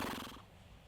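A young four-year-old horse gives a short whinny during a riding lesson, a brief quiet call that fades quickly into stillness.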